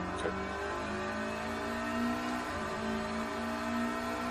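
A Lotus Elise's mid-mounted engine revving in the racing game Pro Race Driver, a steady droning whine that climbs and shifts in pitch, fairly loud and continuous with no talk.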